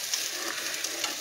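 Gravy is whisked in a pan, giving a continuous bright hiss and soft scraping texture with faint clinks, steady and close throughout.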